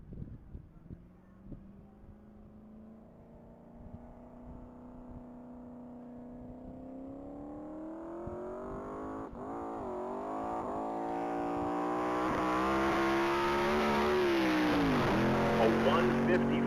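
A race car at a Texas Mile top-speed event accelerates down the mile track, its engine note climbing steadily from a distant drone to a loud, close roar over about sixteen seconds as it shifts through gears.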